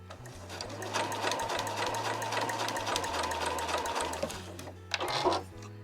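A sewing machine stitches cotton fabric for a small house-shaped key case, a steady close mechanical whirring run of several seconds with brief pauses and clicks as the needle stops.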